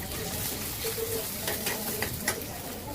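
Onion frying in hot oil in a pan, a soft continuous sizzle with a few light stirring scrapes and clinks, fairly quiet and close.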